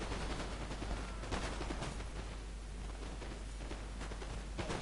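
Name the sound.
musket fire from infantry in Napoleon: Total War video game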